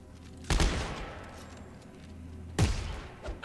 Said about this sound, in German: Ich hab auf dich geschossen.